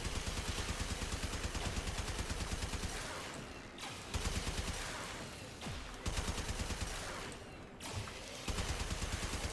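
Rapid automatic gunfire in the video game Warframe, long loud bursts of fast repeating shots with brief gaps between strings.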